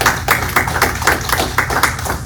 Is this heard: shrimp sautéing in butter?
no